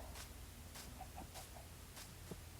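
Short, soft clucks from a chicken in Minecraft Bedrock Edition repeat over a steady background hum, with light clicking sounds between them.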